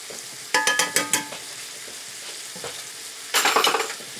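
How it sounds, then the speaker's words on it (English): Onions and mushrooms frying in a pan with beef bouillon, a soft steady sizzle broken by two quick bursts of clattering, scraping stirs. "I'm going to add that to my onions and mushrooms."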